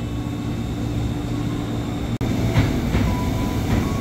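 A KRL Commuter Line electric train rolls into Universitas Indonesia station, a steady rail rumble with a sharp click partway through and rhythmic wheel thumps after it, heard from the platform with no talk.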